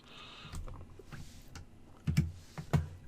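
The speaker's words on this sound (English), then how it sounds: "we'll just click on enter to reboot" Computer keyboard keys tapped a few times in a quiet room, soft irregular clicks with two sharper presses near the end.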